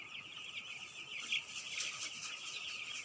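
Broiler chickens on a poultry farm make a steady chorus of high, thin peeping and chirping that rises and falls without pause. No voices are heard over the flock.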